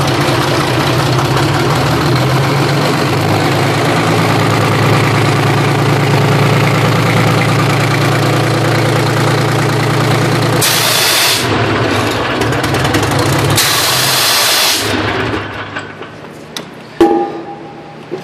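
A Detroit Diesel 6-71 engine runs loud and close with a steady, rough drone, then two bursts of hissing spray cut in, and the engine dies into quiet with a few clanks.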